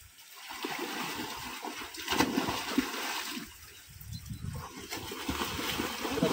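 Water flows and splashes in a stream in the Konkan countryside, a faint continuous gurgle with brief splashy bursts and no talking.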